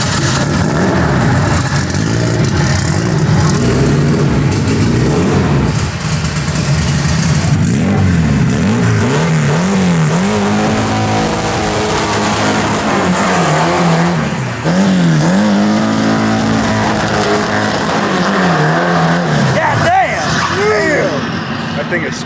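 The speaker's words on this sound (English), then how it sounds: "We need you to warm up that bug and rip us a fat burnout." Modified VW Beetle doing a burnout: a loud engine revving in rising and falling surges with tire squeal, continuous and close, with people talking and shouting over it.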